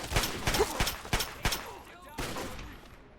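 Shotgun fire in Fallout 3, several sharp loud blasts in an uneven series, some spaced close together, with faint talk between shots.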